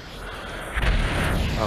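Rocket explosions in the VR battle royale game Population One, a rough booming burst that swells partway through and stays loud over steady broadband game noise, with a voice speaking underneath.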